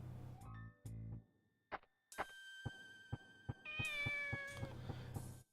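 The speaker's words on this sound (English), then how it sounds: "Always got to check on the kitty." A kitten meows in the Shenmue video game, several short, clear, close mews with gaps between them over quiet game ambience and soft ticking clicks.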